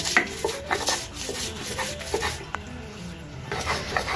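Mashed chepa shutki (dried fish) paste mixed together to a smooth texture, making close, uneven rubbing and scraping with soft knocks against the bowl.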